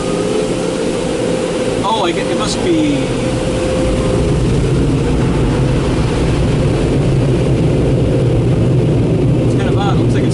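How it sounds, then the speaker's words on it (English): Car wash dryers on a Mark VII AquaJet GTO-700 blowing with a loud, steady roaring hum that never lets up, while people talk briefly over the noise. "Sounds like the dryers are going."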